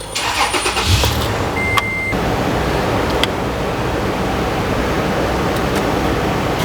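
A car engine cranks and catches at the start, then runs steadily with the air conditioning on, a broad even hum under occasional faint clicks, close and fairly loud.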